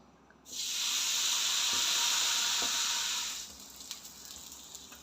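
Thalipeeth flatbread hits a hot tava and bursts into a loud, steady sizzle with hissing steam, holding for about three seconds before easing to a quieter crackle with small pops.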